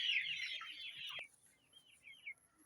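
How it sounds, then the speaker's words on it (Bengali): Adult Brahma chickens on a farm give a loud burst of bird calls and clucking up front, then softer scattered clucks and chirps trail off toward the end. "এই ফার্মে আপনারা দেখতে পাচ্ছেন প্রচুর পরিমাণে ব্রাহ্মা মুরগি, অ্যাডাল্ট ব্রাহ্মা মুরগি রয়েছে।"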